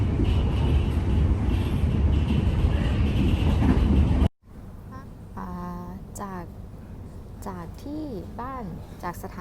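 A Melbourne, Australia train rumbles steadily for about four seconds, loud and close. After a brief cut, someone speaks over a quieter continuous hum of the moving carriage.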